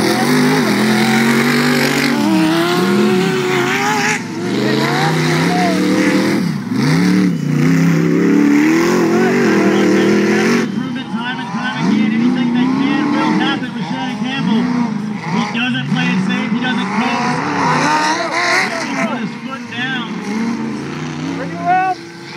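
Off-road race cars in an XRRA rock racing event roar through their final lap, engines revving hard and changing pitch continuously, loud and close, with excited voices talking over the din.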